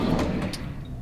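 A drawer sliding open in a cruise ship cabin, one short scraping slide with a light rattle, close by and without talking.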